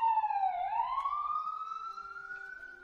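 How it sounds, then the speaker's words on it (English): An ambulance siren passes outside, its wailing tone sliding down then slowly rising again, loud and steady throughout with no talking over it. "The dog is howling at the ambulance."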